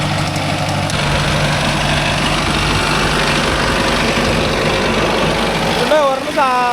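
A Mahindra Arjun Novo 605 DI tractor engine runs with a loud, steady diesel rumble and chug close by, while a voice talks over it and a brief warbling tone appears near the end.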